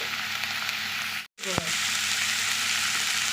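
Amaranth greens (note shak) frying in a pan, a steady hiss and sizzle with a brief break and a clink as the greens go in, then continuous frying.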